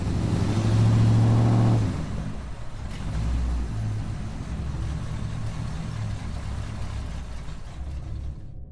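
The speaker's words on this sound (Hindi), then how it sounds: "वो एक्सीलेटर दबाता है और गाड़ी अचानक हवा में उड़ जाती है।" A Maruti 800 car accelerates hard, its engine roaring loud and close for the first two seconds before falling to a steadier, rumbling drone that continues under busy background noise until it cuts off near the end.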